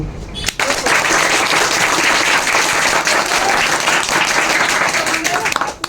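An audience applauds at a school coaching-centre celebration of Rabindranath Tagore's birth anniversary, a loud, sustained burst of many hands clapping that starts abruptly and continues evenly for several seconds, close and dense.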